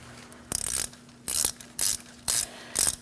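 A ratchet wrench loosening a bolt on a Chevrolet Sonic front wheel hub, five quick bursts of rapid clicking, close and crisp, separated by short pauses.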